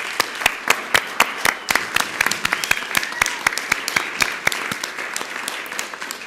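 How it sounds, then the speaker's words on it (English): Applause breaks out at a city council meeting: a crowd claps steadily and evenly at moderate volume for several seconds. "applause."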